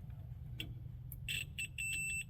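A continuity tester clipped to a car's brake light wire during a wiring harness install gives a few short, high electronic beeps, faint against a low background hum.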